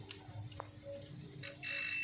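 An electronic buzzer wired to a switch sounds when the switch is pressed during basic component testing, a short, steady high-pitched electronic tone that starts near the end after faint clicks.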